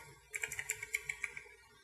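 Quick, light keystrokes on a computer keyboard, about ten taps in a brisk irregular run, fairly close and quiet against a faint background hum.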